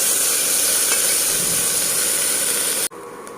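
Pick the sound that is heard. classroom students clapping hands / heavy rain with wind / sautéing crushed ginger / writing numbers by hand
sautéing crushed ginger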